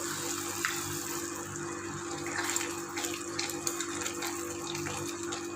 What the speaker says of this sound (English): So I'm adding maybe a tablespoon of the pasta water.